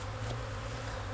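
Honey bees hum around an open nuc hive in a brief, steady low buzz that stays close and even, with no other sounds.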